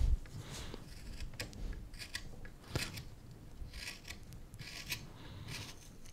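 Steel carving knife shaving wood from the bowl of a decorative wooden love spoon, giving repeated short scraping strokes at close range in an irregular rhythm, with no talking.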